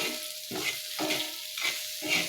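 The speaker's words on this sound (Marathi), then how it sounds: "ही मिरची आहे ना ती थोडीशी आपल्याला या तेलामध्ये भाजू द्यायची आहे" Green chillies fry in hot oil with a close, steady sizzle, broken by a few rhythmic stirring strokes roughly every half second.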